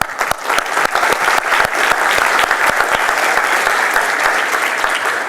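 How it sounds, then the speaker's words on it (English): An audience applauds in tribute after a call to honor a man's achievements during a recent revolution, a dense, steady wash of many hands clapping at close range for several seconds with no talking. "let's clap for him"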